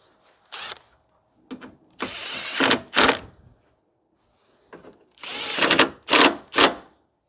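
Power drill with a socket driving in bolts on a 2009 Subaru Impreza 2.5 SOHC radiator, in several short whirring bursts separated by pauses, close and fairly loud.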